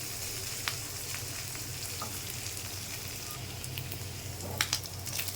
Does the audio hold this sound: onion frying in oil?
yes